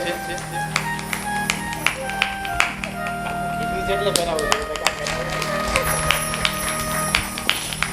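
A devotional gathering at a Bhagavat Katha claps along in rhythm, the sharp, regular hand claps mixed with singing and talk over a held tone.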